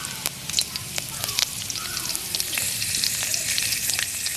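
Fennel seeds dropped into a little hot oil for a Jaffna-style mutton bone curry, crackling and sizzling loudly up close, with rapid pops over a continuous frying hiss.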